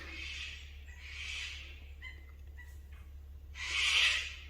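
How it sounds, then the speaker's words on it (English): Sulphur-crested cockatoos give harsh, screeching calls in three bursts on Cooroy Mountain in South-East Queensland, Australia, with the last loudest and nearest, over a steady low background hum. "That's the sound of the sulphur-crested cockatoos."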